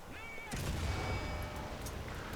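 Tank cannon fire in War Thunder ground battles: a heavy boom lands about half a second in, followed by rumbling battle noise and scattered distant shots throughout.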